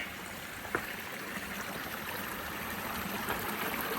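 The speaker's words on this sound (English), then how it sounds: "this stream right here, and now I have to cross it" Cold stream water runs steadily over rocks at a crossing, a continuous close rushing and trickling wash with no voices.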